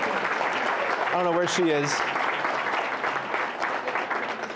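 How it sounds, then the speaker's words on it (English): Audience applause for a volunteer at a Sacred Heart church gathering, a steady wash of clapping with a brief spoken remark over it. "let's give a round of applause for Jess Allen for setting all of that up"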